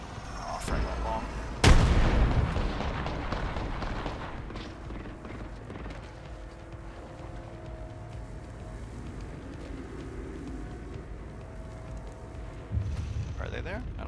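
A frag grenade blast in the Apex Legends video game, a loud sharp boom near 1.7 seconds followed by rumbling decay and a second smaller burst near 12.8 seconds, amid ongoing game ambience.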